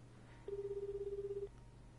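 A steady electronic phone ring tone in the video game Judgment sounds once for about a second over a low background hum, fairly clear and alone.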